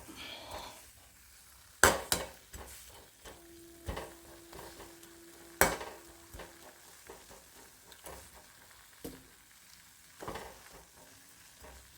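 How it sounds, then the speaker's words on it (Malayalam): Dried chillies frying in coconut oil in a pan, with a faint steady sizzle broken by a few sharp clinks and stirring scrapes, close and fairly quiet, no talk. "അരിമുളക് ശരിക്ക് എണ്ണയിൽ വെളിച്ചെണ്ണയിൽ വെന്ത് കഴിഞ്ഞാൽ"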